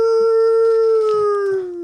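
A person imitates a wolf-like howl, a single sustained, loud, steady tone held close to the listener that sags slightly in pitch and fades a little at the end.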